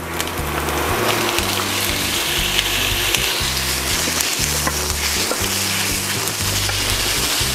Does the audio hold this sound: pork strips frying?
yes